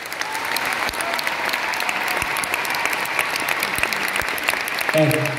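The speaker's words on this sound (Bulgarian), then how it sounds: "Силни аплодисменти за тях." An audience applauds steadily for a national acrobatics team performance, dense continuous clapping from a large crowd with a brief voice near the end.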